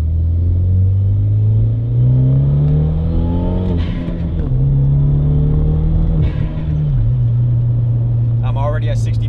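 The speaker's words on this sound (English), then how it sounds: "give it a little gas. There's no cars behind me, so I'll let you guys hear that turbo spool nicely." A Hyundai Genesis Coupe 2.0T R-Spec accelerates on the road with turbo spool, its engine drone rising steadily through several gear shifts, loud and close from inside the cabin.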